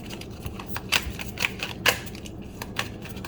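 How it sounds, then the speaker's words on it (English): A deck of tarot cards is shuffled by hand, giving soft papery riffles and several sharper snaps spaced irregularly over a quiet room background. "How am I shuffling these cards though?"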